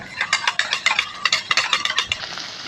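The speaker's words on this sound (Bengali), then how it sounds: "একটা পাত্রে কিছুটা চালের গুঁড়ো একটু জল দিয়ে মিক্সড করে একটা ব্যাটার বানাবো" Rice flour and water being stirred into a batter in a bowl: a steady run of quick scraping, tapping strokes of a utensil against the bowl, close and alone with no talk.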